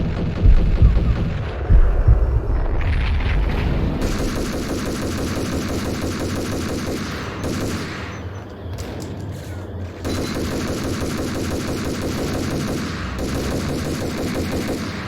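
Rapid automatic gunfire from a player's weapon in a video game, loud and sustained in long continuous bursts with brief breaks, dominating the mix.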